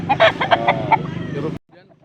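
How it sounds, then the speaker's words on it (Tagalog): A gamecock rooster being held in hand lets out a loud, close crow that cuts off abruptly, with faint voices and background noise after. "Hawak ko manok."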